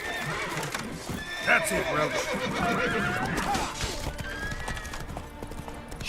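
The horse Roach neighs and gallops in The Witcher 3: a loud whinny rises over steady galloping hoofbeats, mixed with game sound effects and someone speaking briefly.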